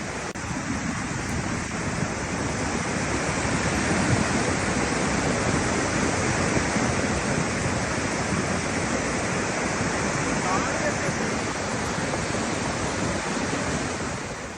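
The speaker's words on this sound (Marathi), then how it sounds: "सततच्या पावसानं नद्या, ओढे दुथडी भरून वाहू लागले" Swollen rivers and streams rush after continuous heavy monsoon rain, a loud, steady broadband roar of churning water filling the whole clip without a break or any voice.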